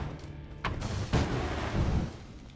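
A booming explosion from the video game Titan Souls, with a few sharp thuds in quick succession over a dense rumbling roar that swells and fades across a couple of seconds.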